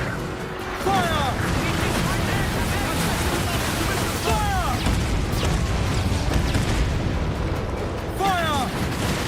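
Pirate ship cannons firing broadside in Assassin's Creed Black Flag, heavy continuous booming and rumbling under loud battle noise, with shouted commands and crew voices throughout.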